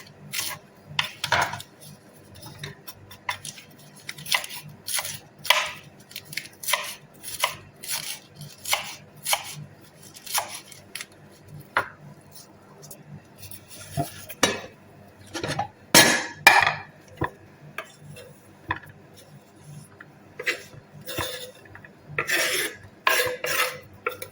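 Ingredients for a pasta salad, olives among them, are chopped on a board with a knife in irregular sharp taps and scraping strokes. The sound is close and fairly loud, with short pauses between bursts and no talking.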